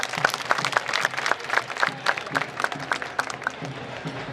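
A crowd claps at a Mumbai Marathon epilepsy foundation event, steady rapid clapping that carries on for several seconds without talk.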